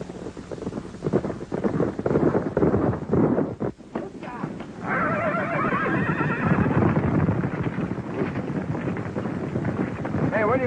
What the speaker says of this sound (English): As soon as Ward gets through checking these horses.